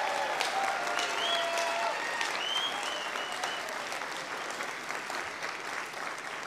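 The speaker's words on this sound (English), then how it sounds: "Let's give them all one more round of applause for their accomplishment." Audience at a 2022 nursing pinning ceremony applauding the graduates, sustained clapping throughout with whoops and cheers over it at the start.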